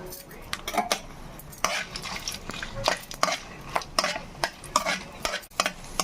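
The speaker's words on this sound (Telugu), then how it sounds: "ఒక పది ఎండుమిరపకాయలు వేసి వేయించుకుందాం" A spatula scrapes and clatters around a pan in quick, repeated strokes as about ten dried red chillies fry in a teaspoon of oil with a light sizzle underneath.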